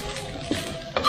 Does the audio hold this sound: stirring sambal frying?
yes